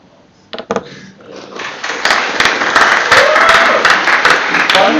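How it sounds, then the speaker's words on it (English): Delegates at the opening of the 66th EPSA General Assembly start clapping: a few scattered thumps first, then applause from a crowd that swells and holds loud and steady. "You can clap if you want to"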